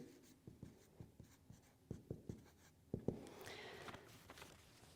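Pen scratching across paper while vector math is written out by hand, a run of short strokes and taps in an irregular rhythm, close and moderately loud, with no talking.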